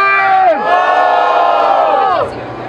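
A loud crowd at a Brazilian MC rap battle roars and cheers with whoops and shouts before the third round, sustained for a couple of seconds before easing off.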